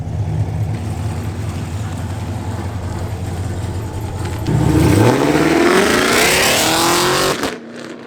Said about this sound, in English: that was James's Camaro. He just got headers on